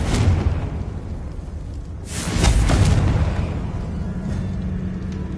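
Spell blasts from Bombarda and Confringo in the Hogwarts Legacy video game: a loud, rumbling explosion roars from the start, then a second heavy boom swells with a whooshing burst and fades into a sustained low rumble.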